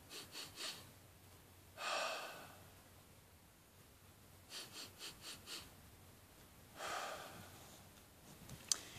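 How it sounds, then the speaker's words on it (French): A person does a staged relaxation breathing exercise, letting out soft sigh-like exhales through the mouth with a relaxed jaw; short stepped puffs come in small clusters between two longer, fuller breaths, close and quiet, with no talking. "je souffle un peu comme un soupir, en soufflant par la bouche de préférence, et en relaxant la mâchoire également"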